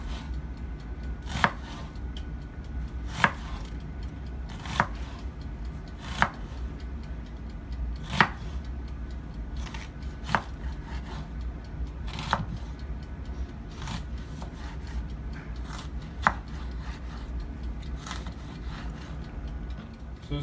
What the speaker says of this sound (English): you're gonna place it flat and start cutting